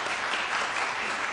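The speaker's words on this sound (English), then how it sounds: "I think you just heard applause from this audience" An audience at a Blount County, Tennessee county meeting breaks into applause, a thick, continuous clapping wash from many people in a hall, fairly loud and unbroken, with no speech.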